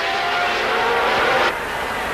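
Formula 1 cars roaring off the grid at a 1992 Grand Prix start, a loud, dense engine howl that swells steadily, then drops abruptly to a lower, fainter rumble.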